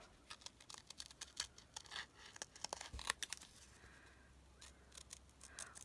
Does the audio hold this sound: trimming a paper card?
yes